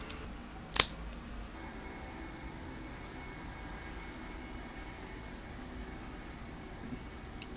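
Nub Connecticut cigar having its cap cut, one sharp, brief snip near the start, close, followed by quiet room hiss.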